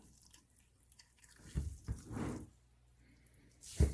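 Wet coconut coir squeezed by hand over a worm bin, giving a few soft, faint drips and squishes with a brief trickle mid-way and a sharper drop near the end, no talk.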